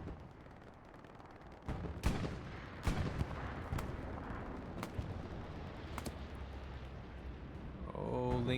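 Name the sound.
gunfire in a first-person shooter video game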